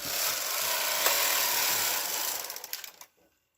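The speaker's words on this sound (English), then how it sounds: "turn on your knitting machine. That way you don't forget. Everything looks good. Knitting across once." A knitting machine carriage slides across a row with a loud, continuous rushing rasp close by, ending in a few rattling clicks before stopping abruptly.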